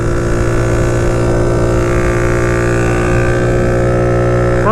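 Honda Grom motorcycle with a utility sidecar at full throttle, a loud, steady, droning engine note held close for the whole stretch, with wind roar over it and no talk.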